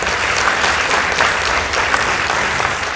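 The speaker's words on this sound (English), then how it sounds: "Let's give them a round of applause." A school audience applauds the semi-final result of a high school debate competition, with loud, dense, continuous clapping filling the whole stretch and no speech over it.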